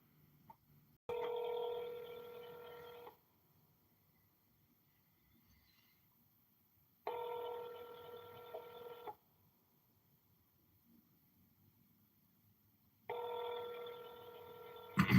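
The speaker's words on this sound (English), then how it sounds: "Please state your name after the tone, and Google Voice will try to connect you." Telephone tones from a call routed through Google Voice: three loud two-second bursts of a harmonic ringback-style tone, evenly spaced about six seconds apart, with near silence between them and no talking.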